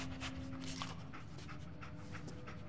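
The dog companion in Fallout 4 sniffs and pants steadily and close by in quick rhythmic breaths, over a low game background hum.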